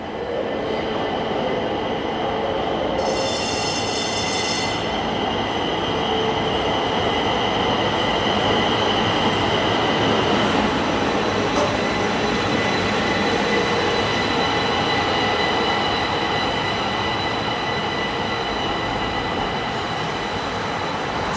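A Pittsburgh light rail train rolls steadily along the tracks toward Station Square, a continuous rumbling hum with a brief high-pitched wheel squeal near the start.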